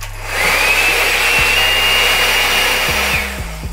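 A hair dryer runs with a steady broadband whoosh and a thin whine, starting up and cutting out after a few seconds, with low clicks near the end.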